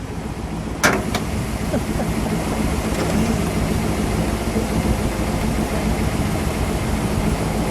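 A 1957 Ford Fairlane 500 Skyliner Retractable runs steadily at idle, its engine a continuous close rumble with a sharp click near the start and no talk over it.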